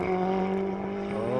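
Steady, droning hum at a constant pitch from a 450-horsepower four-cylinder race car engine, loud and close, with no talking over it.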